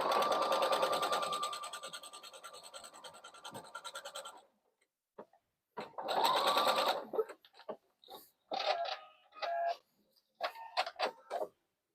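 A sewing machine stitches a tote bag, running in a fast, even whirring burst for several seconds, then pausing and restarting in shorter runs with brief gaps and clicks between them, close and clear.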